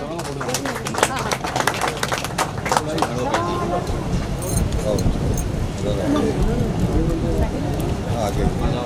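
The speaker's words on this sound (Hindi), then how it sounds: "जोरदार तालियों के साथ स्वागत करें।" Steady applause from a crowd fills the clip, dense clapping continuing throughout with voices mixed underneath.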